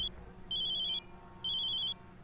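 Telephone ringing in two short electronic bursts about a second apart, each a bright warbling trill, with quiet room tone in between and no one talking.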